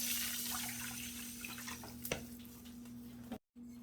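Water pours and splashes steadily into a cooking pan while making a shrimp tempura bowl, with a low hum underneath and a brief sharp clatter midway before a short cut.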